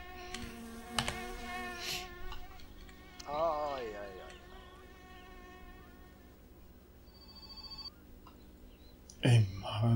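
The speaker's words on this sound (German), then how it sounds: "Warte, dieses scheiß Telefon." A telephone rings in the video game My Summer Car, a buzzy repeating tone heard up close with a person talking over it.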